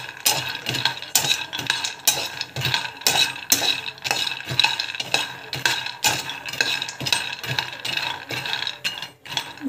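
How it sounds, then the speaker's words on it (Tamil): Ingredients dry roasting in a pan, stirred with a utensil that scrapes and clinks against the metal in a quick, regular rhythm, close and clear with no talk. "இந்த கலர் சேஞ்ச் ஆகிற வரைக்கும் நல்லா வறுத்துக்கணும்"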